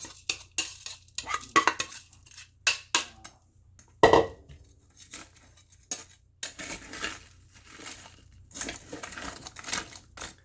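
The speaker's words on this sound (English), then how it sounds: "I'm going to put the frozen broccoli in the crock pot here" Frozen broccoli tumbles into a crock pot for a broccoli and cheese casserole, a series of close clattering knocks and rattles as the pieces hit the pot, with scraping and clinking between bursts.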